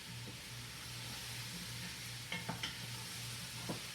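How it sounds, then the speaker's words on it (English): Potatoes fry in a pot as the base for Zuppa Toscana, giving a steady soft sizzle and hiss with a few brief stirring clatters and scrapes near the middle. No one speaks. "And that is just sizzling right now."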